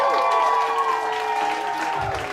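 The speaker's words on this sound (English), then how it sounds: "can I get one more applause, everyone?" Audience clapping at a PechaKucha Night event in Ubud, Bali, a steady, dense wash of applause filling the room at moderate volume throughout.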